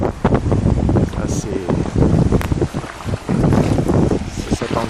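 A strong north wind buffets the microphone on the wild beach of Jaï, roaring in loud gusts that rise and fall and mask almost everything else. A voice can be heard talking under the wind.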